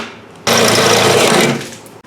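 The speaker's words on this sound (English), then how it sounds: "now change to a 25/64 drill bit because that's what the nutserts call" Drilling holes with a 25/64 drill bit for nutserts while installing dual electric fans: a loud, steady high-pitched whirring grind starting abruptly, holding about a second, then tapering off and stopping.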